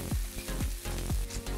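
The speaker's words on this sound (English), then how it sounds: "allow it to sizzle just a little bit more until the sauce gets a little golden" Steady sizzling of beef and sauce frying in a pan, broken by a few scraping stirs, close and continuous with no talking.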